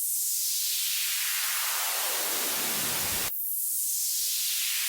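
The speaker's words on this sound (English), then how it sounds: "You get that high sweep sound." White noise swept through a high-pass filter in FL Studio, bright hiss thinning from full to high-only over about three seconds, then abruptly resetting and sweeping again, loud and continuous.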